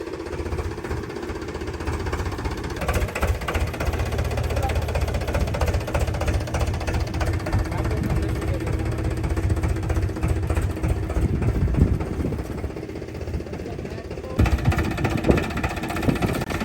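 A tractor engine runs steadily close by with a rough, vibrating drone, and the tone shifts briefly near the end.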